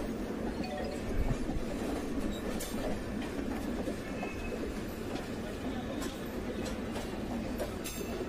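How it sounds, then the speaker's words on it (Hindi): A passenger train running on rails at slowing speed, heard from on board: steady low rumble and rolling wheel noise with faint clicks, continuous and moderately quiet throughout. "फिर ट्रेन स्लो हो चुकी है"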